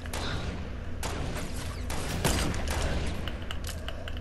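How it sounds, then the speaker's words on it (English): Fortnite gunfire crackles in rapid bursts of shots with mechanical clatter, loud and close, running through most of the stretch with no voices. "If you listen to it, we're getting shot at, bro."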